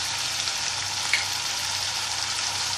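Chopped bottle gourd and other vegetables frying in a pan make a steady, dense sizzle close up, with one faint tap partway through and no voices.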